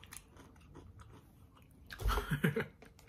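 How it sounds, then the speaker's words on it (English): Doritos Ultimate Cheddar & Screamin Sriracha tortilla chips being chewed close to the mic, with quiet crunching at first, then a louder burst of crisp bites and crunches toward the end. "Here's the spice as I chew it."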